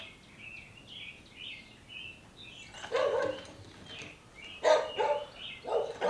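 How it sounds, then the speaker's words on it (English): A dog barks in a few sharp, loud bursts in a workshop, following a quieter stretch of bird chirping, with no talking. "Dog just got excited about something."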